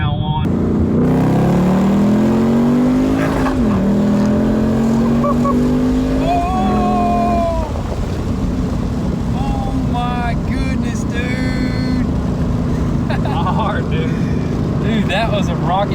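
A boosted 2017 Ford Mustang GT launches hard, its engine note climbing loud and close through rising gear pulls with brief shift breaks, while voices talk over the roar.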